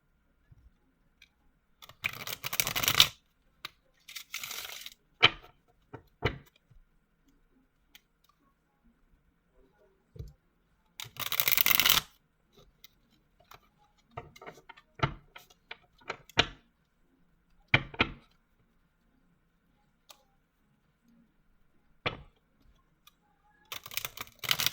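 Intermittent bursts of cards being riffled and shuffled, quiet and close, separated by pauses with small clicks and handling noises.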